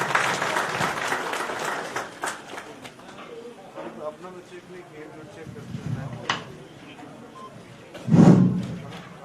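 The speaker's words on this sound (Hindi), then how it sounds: "एक जोरदार तालियों के साथ इनका स्वागत किया जाए" A crowd at a Karni Sena workers' conference in Jharkhand claps to welcome a guest, a loud burst at first that thins out, with a speaker's voice over it and a thud near the end.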